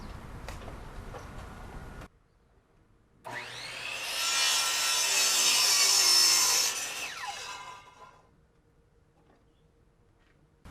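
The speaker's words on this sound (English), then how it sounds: "these are 2x4x8s that I'm cutting" A chop saw cuts through a 2x4 wooden board outdoors, a loud sustained whine and bite through the wood lasting several seconds, then spinning down, with quieter handling noise before and after.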